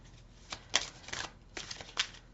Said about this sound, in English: You can see I'm shuffling.